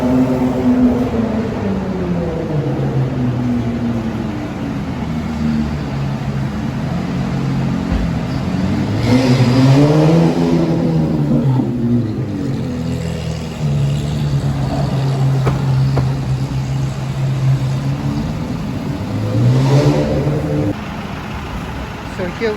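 A Lamborghini Aventador with an SV body kit idles and revs at an owners' gathering at Pavilion Kuala Lumpur, its engine note rising and falling in a few swells over steady idle, close by.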